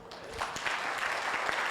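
A seated audience at a spiritual sharing gathering claps, producing a short burst of brisk, overlapping hand claps that swell slightly and hold steady.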